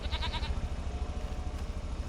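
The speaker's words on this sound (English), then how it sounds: "This is sheep and goat pen." Sheep and goats bleat together in a farm pen, a few close wavering calls at the start over a steady low rumble of background noise.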